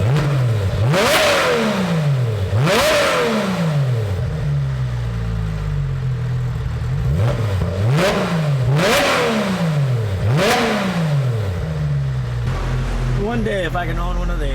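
A Porsche 997.1 engine revved hard in a workshop, a series of loud close blips climbing sharply and falling back, repeated about seven times with a rising whine at the end, with a voice briefly in the background.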